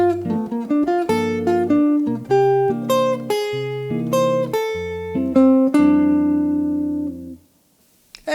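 A bebop phrase played an octave up on a pitched instrument, a quick run of crisp, distinct notes that slows into longer held tones and fades, with a brief new note at the very end.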